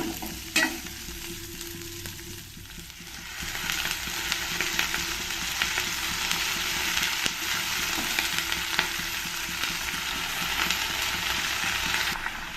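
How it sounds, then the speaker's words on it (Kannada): Amaranth greens frying in oil in a pan, a dense close hiss and crackle that builds and holds steady, with an occasional clink of stirring and no talk. "ಈ ಅರವೆ ಸೊಪ್ಪು ಎಣ್ಣೆಯಲ್ಲಿ ಸ್ವಲ್ಪ ಚೆನ್ನಾಗಿ ಫ್ರೈ ಹಾಕಬೇಕು"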